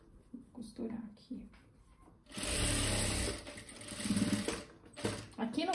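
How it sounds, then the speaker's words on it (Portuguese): A sewing machine runs a seam along a cotton dish towel, a steady close mechanical whir of a few seconds that starts and stops, with a voice talking before and over it. "Certo, vou costurar aqui."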